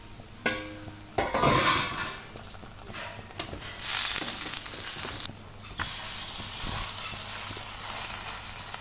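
Millet appe sizzling in oil in an appe pan, a steady frying hiss with intermittent stirring and scraping clinks, close and moderately loud, no talk.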